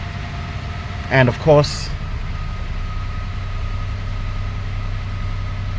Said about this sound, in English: Now we're running, and now we have our fast idle.